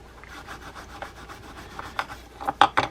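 Steel wool rubbing caked, varnished old grease off a vintage Pflueger Akron bait casting reel: soft, steady close scrubbing strokes that end in a few sharper scratchy swipes.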